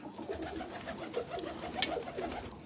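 Pigeons coo at a loft holding grey and red pigeons, a soft, repeated low cooing that runs steadily throughout with faint background noise and no voices.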